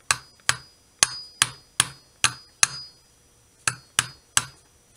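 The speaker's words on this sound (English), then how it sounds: "I just might tap it a little bit with my hammer." Light, evenly paced hammer taps on a Dual turntable motor during repair, about eleven crisp metallic strikes with brief ringing, close by and alone.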